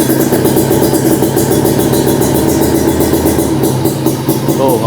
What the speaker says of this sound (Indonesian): Kita gas aja tipis-tipis